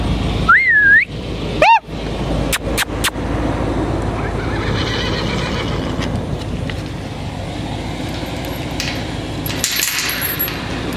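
A horse whinnies near the start at a barn during chores, a rising and falling call, followed by a few sharp clanks over steady background noise.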